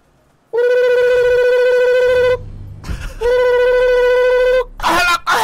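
A loud telephone rings in a GTA roleplay video game, two long electronic ringing bursts separated by a short gap, followed by brief noisy sounds at the end.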